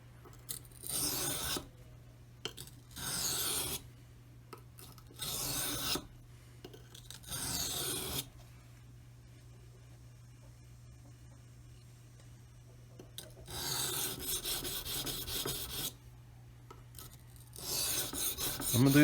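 A Streamside knife is being sharpened on a stone to set the edge bevel, giving repeated rasping strokes in bursts separated by quiet pauses, close and fairly aggressive.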